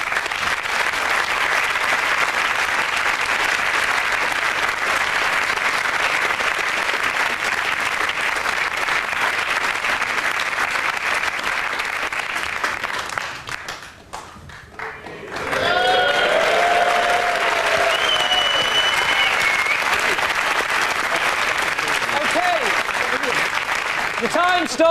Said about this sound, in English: It's a huge round of applause, so it wasn't Steve McLaren, obviously.